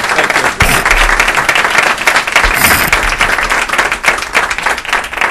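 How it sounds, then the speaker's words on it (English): Loud, dense applause from a crowd at a city council meeting honoring a police officer, sustained clapping with sharp individual claps close by. "Let's give Officer Gary Jones a round of applause for the work that he has"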